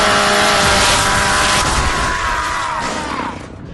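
Loud, dense roaring engine-like buzz with harsh grinding noise fills the whole stretch, a video-game chainsaw attack sound, steady then tapering off near the end with no voices.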